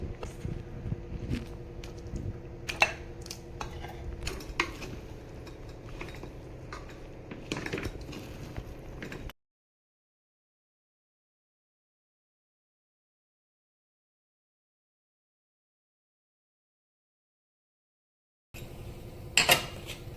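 Metal spoon scraping and clinking inside a pot as prawn gravy is stirred into cooked biryani rice, a run of close taps and scrapes, then about nine seconds of silence before a brief burst of clatter returns.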